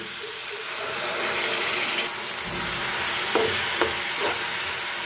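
Ground masala dropped into bilimbi fruit frying in oil, with a busy sizzle underneath and several distinct scraping stirs of a spoon against the pan, close and fairly loud.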